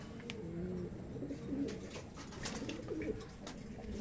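Racing pigeons coo softly inside a loft housing ten breeding pairs, low rolling coos repeating in overlapping bursts with a few faint flutters and knocks nearby, no voices present.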